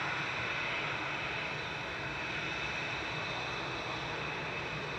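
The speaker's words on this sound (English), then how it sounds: "We've got the A380 still taxiing on to stand." Airbus A380 airliner taxiing to its stand at Manchester Airport, a steady broadband engine roar with a constant high whine, continuous and fairly loud throughout with no talk.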